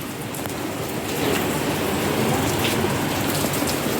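Steady rain pours in Roha as a dense, even hiss that swells slightly after the first second and continues without a break, with no voices.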